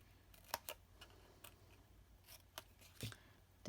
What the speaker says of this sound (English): Just take one piece and then cut it off with my paper snips